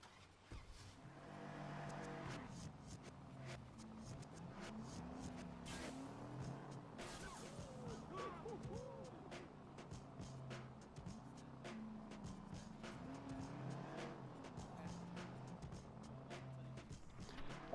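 In the Watch Dogs video game, a car engine hums and revs steadily as it drives, with wavering tire squeals and scattered clicks over a constant motor drone.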